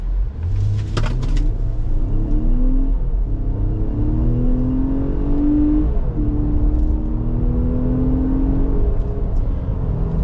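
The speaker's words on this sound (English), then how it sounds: "Now let's see how this naturally aspirated engine takes off." A 2023 Nissan Pathfinder Rock Creek's naturally aspirated engine climbs steadily in pitch as it accelerates, a smooth droning rise with a brief gear change, heard from inside over road rumble.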